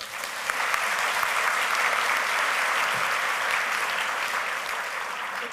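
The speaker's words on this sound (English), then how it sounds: "Please give another round of applause for Dr. Jay Wendland." Sustained audience applause at a university convocation ceremony, a dense, even wash of clapping from a large crowd that holds steady from start to finish without any talk.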